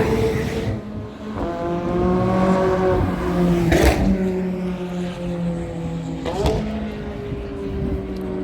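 Race cars on a track pass by one after another, engines droning with rising and falling pitch, punctuated by a couple of sharp nearby bursts as cars sweep past, with faint voices in the background.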